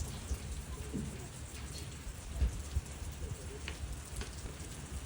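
Steady rain falls on a ranch with a soft, even hiss and scattered nearby drips and taps, a few louder knocks standing out, fairly faint overall.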